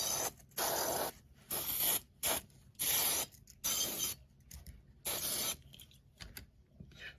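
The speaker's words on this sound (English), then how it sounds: "the WD-40 is going to get all over the place" WD-40 aerosol sprayed onto a Richards Tartan Barlow knife in short repeated bursts, close and hissing, with brief pauses between each spray.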